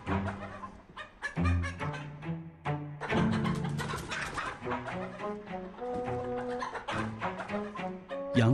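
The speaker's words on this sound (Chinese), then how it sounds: "养了两年的母鸡正值产蛋高峰期" Two-year-old laying hens at the peak of their laying season cluck and call in a busy, overlapping stream of short vocalizations, close and fairly loud, with no talking.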